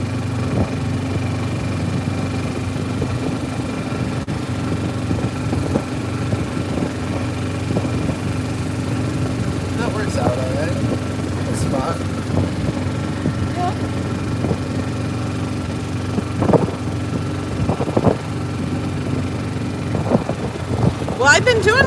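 A golf cart motor hums low and steady throughout a ride along a shortcut, with occasional bumps and rattles, and a voice speaking at times over it.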